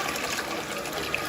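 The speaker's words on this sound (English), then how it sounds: "I'll do a little flush for you." A Toto Drake toilet with a tornado flush runs with a steady, close rush and swirl of water that keeps a constant level throughout.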